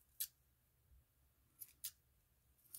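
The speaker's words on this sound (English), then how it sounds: "My scissors need to be sharpened" Three or four short, crisp scissor snips, quiet and close, spaced irregularly with near silence between them.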